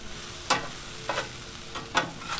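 Potatoes and onions frying on a Blackstone 22-inch griddle for corned beef hash, a low steady sizzle broken by a few sharp scraping stirs at regular intervals, close up with no talking.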